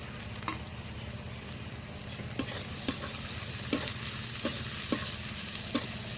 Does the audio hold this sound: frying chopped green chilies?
yes